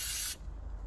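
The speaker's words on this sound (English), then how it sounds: "Brake cleaner." A short, loud hiss of brake cleaner spraying onto engine parts, cutting off abruptly, then near silence.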